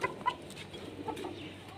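Chickens clucking and squawking in a backyard coop where a new rooster is being shut away from the hens, close and irregular bursts over a busy background.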